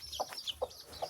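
Short, sharp clucks from a chicken being caught, about three distinct bursts in quick succession, close by and fairly clear.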